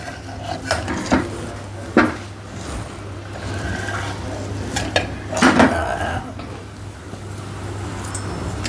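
A ground dry fruit mixture being roasted in a pan at home, with a soft frying hiss under repeated clinks and scrapes of a spoon against metal, while people talk intermittently.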